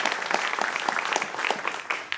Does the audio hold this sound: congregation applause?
yes